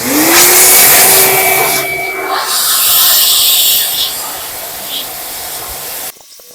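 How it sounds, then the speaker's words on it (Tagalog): A vacuum blower forces air through an ASRock RX5700 Taichi graphics card, a loud, close, steady rushing hiss with a rising whine at the start that holds for about six seconds before cutting off abruptly. "Okay guys, bugahan natin siya ng vacuum."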